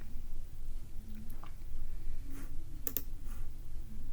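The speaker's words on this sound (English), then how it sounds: "Click on continue." Two quick, sharp computer mouse clicks land close together near the end, quiet and alone against a low background hum, while a software installation is being set up on a computer.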